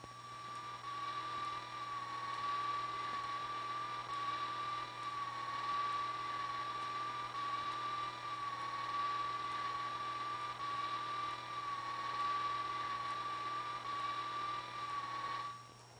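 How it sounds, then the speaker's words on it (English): A B-50 bomber's piston engines run at takeoff as a steady, faint drone with a constant hum and a fixed mid-pitched tone, holding even for the whole span before trailing off at the end. "Rosebud, code name for this B-50 drop aircraft, is in the air."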